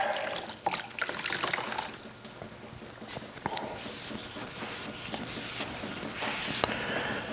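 Cleaning rag rinsed under running tap water beside a freeze dryer, a soft continuous splash and trickle broken by wringing and handling sounds, quiet and near.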